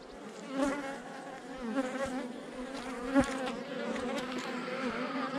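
Honeybee buzzing steadily and close, a continuous droning hum with a few louder swells as it moves about, heard alone without speech.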